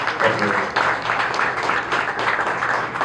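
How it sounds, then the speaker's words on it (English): A live audience at a business networking evening applauds a speaker being welcomed to the stage, a dense, steady patter of many hands that fills the whole clip at close range, with possible murmuring mixed in. "let's give a fantastic hand clap for Richard Martinez."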